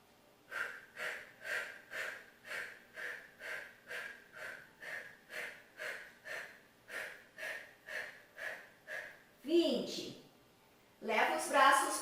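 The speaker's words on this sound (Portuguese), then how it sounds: "Se quer fazer a respiração do fogo" Rhythmic forceful nasal exhalations from breath of fire breathing in a yoga class for seniors and beginners, about twenty even, steady pumps in a row, followed by a deep inhale and a noisy exhale.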